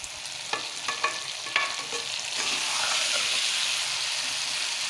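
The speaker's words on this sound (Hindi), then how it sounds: "पाँच मिनट तक आप इसे भून दें और बहुत ही आहिस्ता आपने चम्मच चलाना" Okra with chicken and chopped green chillies fried in a pan and stirred slowly with a slotted spoon: a few sharp spoon scrapes and clicks at first, then a steady, close sizzle that swells and holds.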